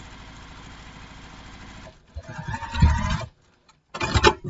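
A sewing machine top stitching the folded top edge of a fabric backpack, a steady whirring run at close range, then a pause and a second short burst.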